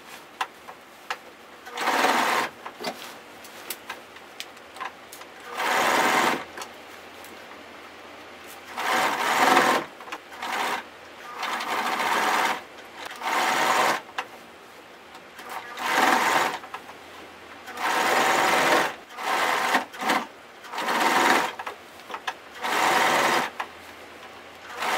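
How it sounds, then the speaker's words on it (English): A sewing machine stitches garment pieces for a skirt and bodice in repeated bursts, each run of rapid whirring stitching lasting a second or two, separated by short quiet pauses while the fabric is adjusted. "The sewer is making sure that the underside of the garment part is flat on the sewing machine."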